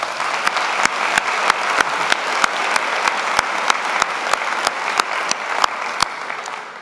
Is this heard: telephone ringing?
no